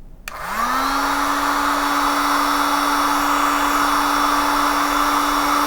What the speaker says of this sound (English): This is a Mastercraft heat gun from Canadian Tire.